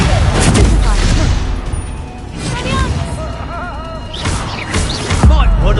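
Bombarda blasting spell cast in the Hogwarts Legacy game, a loud, dense roar of explosive booms and crashes layered over continuous battle noise, with bursts at the start and again near the end.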